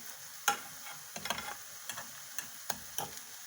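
Carrot and apple fritters frying in a pan give off a quiet, steady sizzle, broken by sharp clicks and light scrapes of stirring spaced through the clip.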